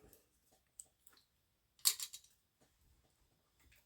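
Scissors cut through gold mirror card in a quiet room: a few faint ticks, then one crisp, close snipping burst partway through, followed by small handling clicks.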